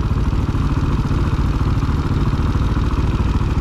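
A heavy motorcycle engine runs steadily close by, a loud, dense mechanical clatter and throb with an even rhythm throughout, no talk.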